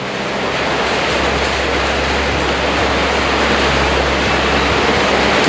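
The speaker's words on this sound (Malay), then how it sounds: "Nampaknya hujan semakin lebat." Heavy rain pours steadily and loudly onto an abandoned rest house. The roar is dense and unbroken, with no voices.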